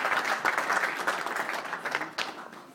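An audience at a storytelling event applauds a storyteller, a dense burst of clapping from many hands that stays loud and steady, then thins out slightly toward the end.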